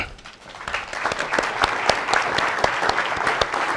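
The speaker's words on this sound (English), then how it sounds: "Please give a nice round of applause to our student" A lecture-hall audience at an evening talk on the First Ladies applauds a speaker. Individual sharp claps stand out near the microphone over a dense, steady spread of hands across the room.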